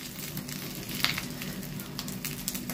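An egg fries in a pan as it is nudged loose for flipping, with a soft continuous sizzle and faint scraping, plus a small tap about a second in.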